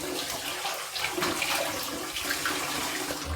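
Water runs steadily from a tap in a bathroom as a face is wetted before a wet shave, a close, continuous splashing rush with no talking.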